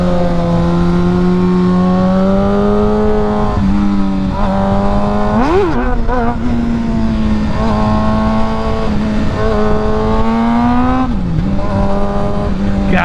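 A new motorcycle, torquey and bigger than a Grom, revs hard and accelerates through rising engine pitch with gear shifts, a loud close drone that holds steady for several seconds alone.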